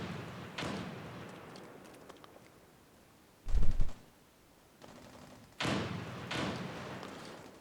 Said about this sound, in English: Yeah, they're throwing grenades over there